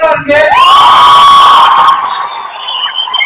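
Crowd at a stage event in a Tirupur cinema cheering loudly, with long sustained whoops and yells dominating and clapping hard to pick out beneath them.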